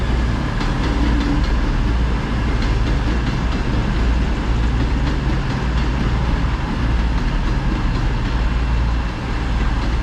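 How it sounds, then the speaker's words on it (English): An Avanti West Coast passenger train, unit 221102 bound for Holyhead, arrives at a North Wales station with a loud, continuous engine rumble and faint rhythmic clicking of wheels over rail joints. "we've got an Avanti West Coast service which is heading to Holyhead"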